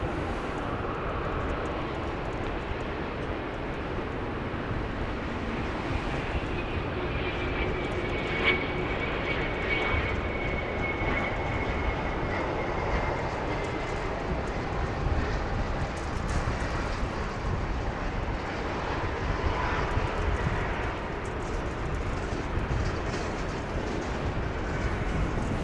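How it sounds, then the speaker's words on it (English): An Embraer Phenom 300 business jet arriving at Dallas Love Field, a long steady jet engine roar with broad rumbling noise, moderately distant and sustained without talk. "It is arriving from Louisville. It's going to be an Embraer Phenom"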